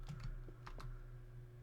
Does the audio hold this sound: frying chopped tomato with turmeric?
no